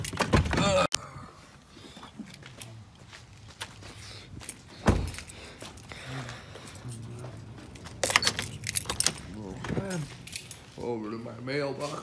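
Keys jangle and rattle in bursts close by inside a truck cab, with a door, shuffling movement and a person talking in between.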